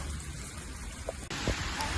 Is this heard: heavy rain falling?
yes